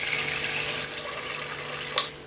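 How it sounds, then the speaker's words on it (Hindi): Two cups of water poured into a pot of aloo matar gosht after the meat and oil have been fried, a steady close rushing splash with a small final slosh, no speech. "2 कप पानी शामिल करेंगे।"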